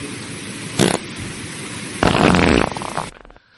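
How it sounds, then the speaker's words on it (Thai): A short burst of flatulent noise, then a longer, louder fart sound effect that trails off into silence, crisp and close. "โอ้เสียงตดนี่"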